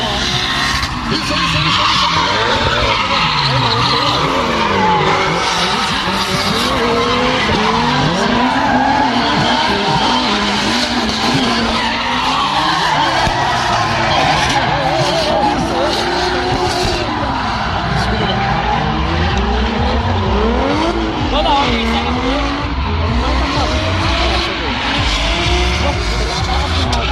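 Drift cars slide around a race track at a drift show, tyres squealing in long wavering wails over loud engine roar, continuous and close, with crowd shouts in the mix.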